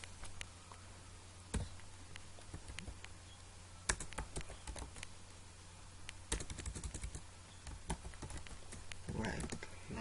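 Computer keyboard being typed on while setting up a console program in Visual Studio 2015, quiet scattered key clicks in short bursts under occasional soft speech.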